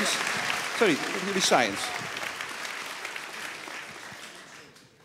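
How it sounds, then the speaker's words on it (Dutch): An audience applauds two women at a science talk on particles and quantum mechanics, with steady clapping under brief speech, while a voice speaks over it and the applause fades gradually toward the end. "hartelijk applaus voor deze twee dames"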